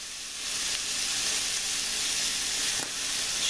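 Onions and potatoes seasoned with salt, pepper and thyme sauté in a hot pan, giving a loud, dense, continuous sizzle close by, with a brief stirring scrape near the end.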